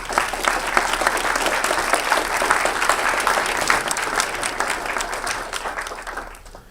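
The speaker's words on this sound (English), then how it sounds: "please give them a round of applause" An audience claps inside a Cold War destroyer moored in a harbor in Gothenburg. Dense, steady applause from a crowd of about forty people holds for several seconds and then tapers off at the end.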